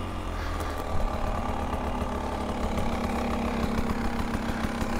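A 2023 Beta 300 Race Edition two-stroke dirt bike engine idles steadily close by, a continuous buzzing drone with a slightly uneven, knocking pulse and no talking.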